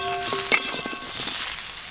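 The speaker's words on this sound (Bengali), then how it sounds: "এরকম হালকা করে ভেজে নিলেই হবে।" Vegetables fry lightly in a pan for a fish curry of small live pond fish. A soft, steady sizzle follows a brief clank of a utensil, with faint tonal ringing at the start and no talk.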